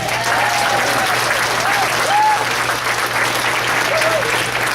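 A room full of people applauding presenters at a goal-setting seminar, steady continuous clapping held at an even level, with occasional voices calling out over it.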